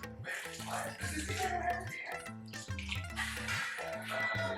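Water pours into a pot of rice for spinach and split pea kitcherie, a continuous splashing gush under a steady rhythmic background tone, with no talking.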